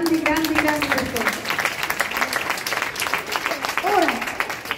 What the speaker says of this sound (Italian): grazie Michele, applausi grandi per te.